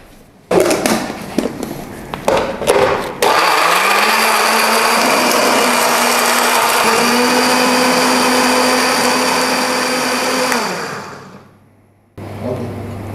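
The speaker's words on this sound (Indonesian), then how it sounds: "sambalnya tadi udah kita blender kan" A blender grinds chili sambal of chilies, shallots and garlic with a little water. A few clattering knocks come first, then a loud, steady whir that runs several seconds before winding down to a stop.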